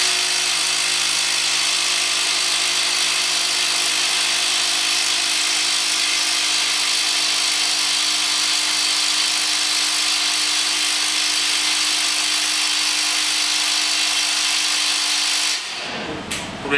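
A Milwaukee Shockwave socket adapter runs on an impact power tool in a continuous loud, steady mechanical whine for about fifteen seconds, cutting off abruptly near the end, with no talk.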